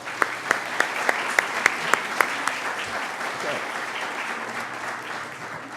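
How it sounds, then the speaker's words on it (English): A crowd at an alumni weekend slam event applauds steadily, a broad wash of clapping with a few sharp, regular claps standing out near the start, and a voice briefly speaks over it. "I think we should give them all a round of applause."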